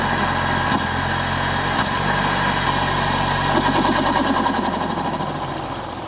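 A Peugeot 308 GTi, its THP engine just repaired for a PCV oil leak, idles steadily with a close, even mechanical rumble and faint ticking, settling quieter toward the end.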